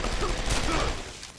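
Gunfire in the video game Deus Ex: Human Revolution, a dense, continuous burst of shots that fills the whole moment, loud and close.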